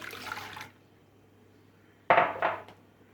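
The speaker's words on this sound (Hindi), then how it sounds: "एक देचकी के अंदर तमाम ऑरेंज जूस को हम ऐड कर देंगे।" Orange juice is poured into a metal cooking pot in two short splashing bursts, separated by a quiet pause, with light clinks of the pot in a home kitchen.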